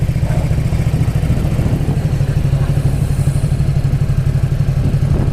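A Ducati Supersport S motorcycle being ridden, its engine a steady, loud, close droning rumble with fast pulsing firing beats held throughout, plus wind and road noise and no voices.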